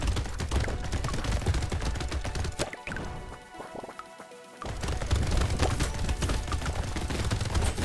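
Rapid-fire bullets in the arena shooter Brotato, a dense, relentless stream of quick popping shots that briefly thins to scattered hits midway, then surges back at full intensity.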